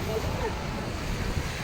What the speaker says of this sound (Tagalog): Grabe yung alon yan. Ang lalaki ng alon dito sa Bukana.